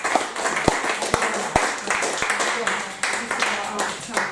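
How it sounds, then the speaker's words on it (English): After a Tolkien centenary lecture in Leeds, the audience claps in a lively, uneven burst with a few sharp close hand claps standing out at the start, loud and near. "So I'd just like to give Claire a big round of applause."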